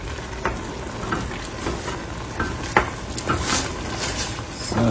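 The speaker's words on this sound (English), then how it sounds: "I'm going to add my palm oil, and then I'm going to stir" Palm oil being stirred into a pot of Abrika gives repeated scraping knocks of a spoon against the pot at an uneven rhythm, over a soft, steady sizzle.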